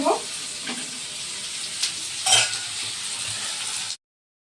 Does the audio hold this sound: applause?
no